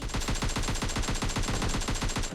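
Rapid automatic gunfire in the battle royale video game PUBG Lite, a steady stream of loud, evenly spaced shots rattling without a break, with no voices.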